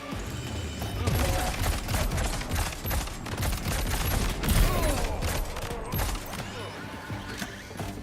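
Rapid gunfire in the video game Death Stranding 2, dense bursts of loud automatic shots rattling continuously over several seconds, mixed with mechanical clatter and impacts, thinning out toward the end.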